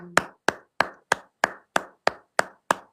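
A church congregation clapping for the Lord during a service: nine crisp, evenly spaced claps in a steady beat, close and distinct, with no talking.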